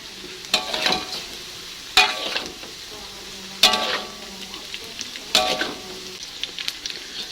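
Meatballs frying in oil in a pan with a steady sizzle, broken by four scraping, stirring strokes of a utensil at regular intervals, up close with no talking.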